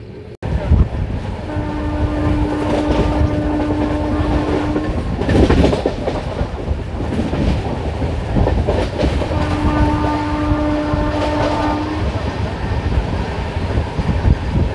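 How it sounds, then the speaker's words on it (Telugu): The 12796 Lingampalli–Vijayawada Intercity superfast express roars along at speed past Miryalaguda station without stopping, with continuous rumbling and rattling of the carriages, and two long horn blasts sound over the noise. "మిర్యాలగూడ రైల్వే స్టేషన్ అయితే స్కిప్ చేస్తున్నాం మనం"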